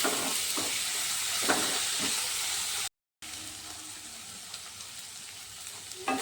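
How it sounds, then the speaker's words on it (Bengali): Prawns frying lightly in a pan for a potol chingri dish, a steady close hiss and crackle of oil running throughout, cut by a brief gap of silence midway. "আর একসাথে আমি দিয়ে দেবো তোমার এই যে চিংড়ি মাছগুলো এটা অত একটা ভাজা হবে না একটু হালকা হালকা ভাজা হবে"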